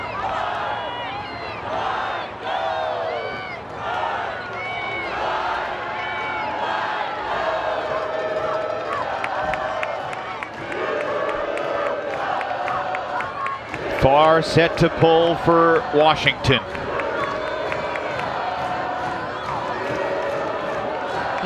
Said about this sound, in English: You can hear the crowd really getting into it.